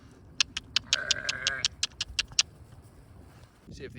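Sheep bleat nearby in winter, one drawn-out call in the middle, while sharp clicks or taps repeat steadily before it and for a short while after.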